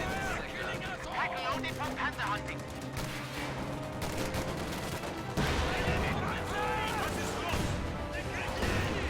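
Dense gunfire from a video game battle, LMG Grenadiers trading fire with riflemen, with rapid overlapping bursts and continuous shooting throughout, steady and loud, with a denser surge partway through and faint voice-like babble mixed in.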